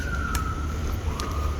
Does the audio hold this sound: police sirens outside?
yes